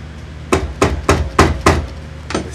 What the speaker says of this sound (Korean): 그래서 이렇게 망치로 두들겨주면은 이것이 부드러워가지고 잘 넘어가요.